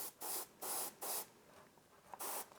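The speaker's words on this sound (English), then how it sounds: "You can just go in and spray that specifically." Short bursts of spray paint hiss from a can or airbrush held above a miniature figure, four separate sprays with brief pauses between them, close and clear with no talk.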